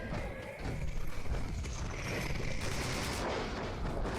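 Enemy missile strikes in the Fallout 76 video game land as a dense, continuous barrage of explosive impacts and gunfire-like bursts, loud and sustained throughout.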